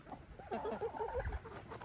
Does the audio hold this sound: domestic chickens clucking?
yes